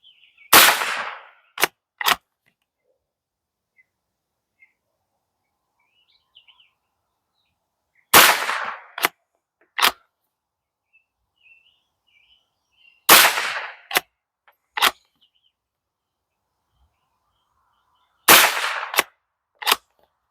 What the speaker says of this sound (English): we're going to go 5 rounds at that center bullseye